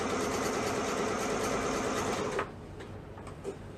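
Sewing machine with a double needle hemming a boys' pajama sleeve on the flat, running steadily and loud for over two seconds before stopping, followed by quieter handling noises.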